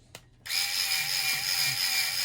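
A handheld power driver drives screws into a small assembly; after a brief click, a loud, steady motor whine runs continuously up close, with slight changes in load.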